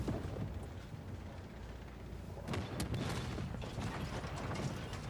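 A tank rumbles and clanks with grinding mechanical treads in the Call of Duty: Black Ops Cold War multiplayer game, a continuous low churning with occasional sharper impacts and thuds.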